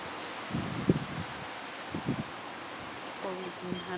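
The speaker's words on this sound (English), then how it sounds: "the wind gusts are up to 35 miles an hour" Strong storm wind with gusts up to 35 miles an hour rushes steadily through a peach tree, a broad continuous roar of rustling leaves with a few low thumps and faint voices underneath.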